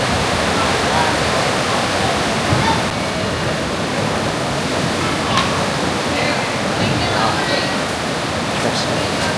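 Continuous roaring wash of surf at Suluban Beach, Uluwatu, Bali, ocean waves breaking steadily with a dense hiss and no clear pauses, fairly loud and close.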